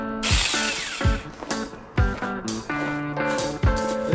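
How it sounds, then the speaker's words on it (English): A small 4-inch, 20-volt battery chainsaw cutting up a Christmas tree revs up and down in repeated bursts, whining loudly as the chain bites, with brief drops between cuts. "We're about to go cut up a Christmas tree with this 4-inch, 20-volt Seiko chainsaw"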